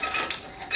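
Glass lampshade twisted into a metal collar on a Westinghouse Contempra Pro Trio ceiling fan, making a brief close scraping clink of glass against metal with no talking.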